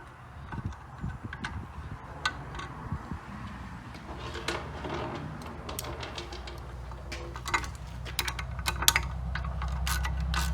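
A 13 mm bolt is tightened to fasten a new anode through the hull of a two-stroke center console boat, giving repeated ratchet clicks and metallic ticks close up over a low steady hum.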